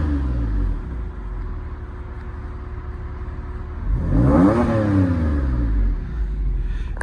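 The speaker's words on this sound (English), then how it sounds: "let's give it a very quick rev for you" A 2007 Porsche 911 (997) Carrera 4S cabriolet with Tiptronic and sports exhaust switched on idles steadily, then gives one quick, loud rev that swells and falls back to idle.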